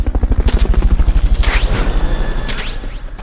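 A helicopter in the video game Metal Gear Solid Peace Walker thumps loudly with fast, regular rotor beats up close, then the chopping blurs into a swelling roar with sharp whooshing sweeps.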